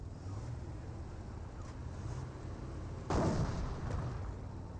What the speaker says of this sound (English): AT gun shots over here.